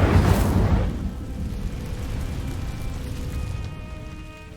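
An Incendio fire spell bursts into flame on dry vines in Hogwarts Legacy, a loud whooshing ignition at the start that settles into a sustained low crackling burn with faint tonal game ambience.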